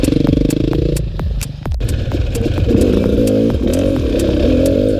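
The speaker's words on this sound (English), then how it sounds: "I am so glad I'm on this Beta Crosstrainer. It's the perfect bike for around here." A Beta Cross Trainer enduro motorcycle being ridden over rocky single track, its engine loud and close, dipping briefly, then revving back up with rattling clatter.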